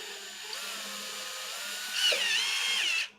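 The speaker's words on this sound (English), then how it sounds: "Oh, this is a drill." A power drill whirs steadily for a few seconds, its pitch rising and wavering as it bites into material, then stops abruptly.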